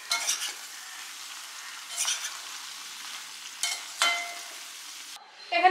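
Salted vegetables cook down in a pan with a soft steady sizzle, interrupted by four brisk scraping stirs of a spatula, close up and without speech.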